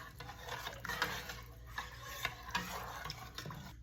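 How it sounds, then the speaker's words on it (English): Fine cornmeal and coconut being stirred in a pot for a Dominican arepa, giving soft scraping and swishing strokes in an irregular rhythm, close and fairly quiet, with no talking. "So just mix until it's smooth"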